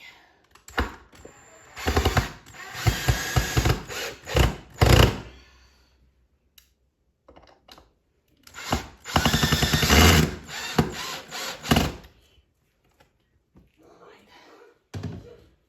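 Power drill boring holes into a living room wall: two long, loud bursts of grinding whir, each lasting several seconds, separated by quiet pauses with faint handling noise.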